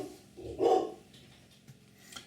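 A dog barks once indoors, a single muffled woof close by, followed by faint shuffling and small knocks in a quiet room.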